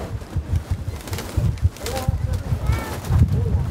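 Pigeons cooing close by at a Santorini club gathering, soft low murmuring coos repeating under a steady outdoor bustle, with a few brief higher chirps and people talking nearby.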